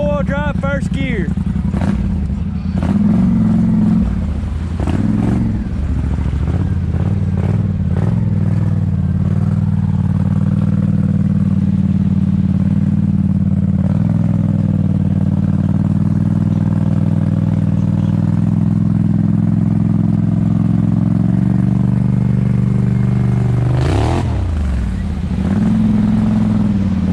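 A Honda Rancher 420 ATV engine being ridden, running loud and close in a steady low rumble with small throttle changes and a brief rev near the end.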